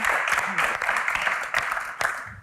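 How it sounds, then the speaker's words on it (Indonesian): A live audience at a Q&A event keeps up dense, steady applause for the guests Kak Mel and Kak Tyson, a continuous wash of clapping with a voice talking over it and a few sharper claps standing out. "Tepuk tangan sekali lagi untuk Kak Mel dan Kak Tyson."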